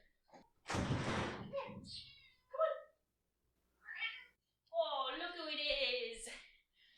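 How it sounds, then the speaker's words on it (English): A cat meows several times up close, drawn-out and insistent cries with short pauses between them, alongside a soft thump. "Hold on, my cat needs to get in."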